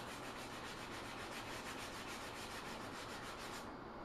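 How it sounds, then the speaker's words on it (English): Plastic on a 1980 El Camino is sanded by hand with 180-grit sandpaper, a soft, continuous rhythmic rubbing of steady back-and-forth strokes, close and quiet, stopping just before the end without any talk. "sanding it as smooth as I can get it"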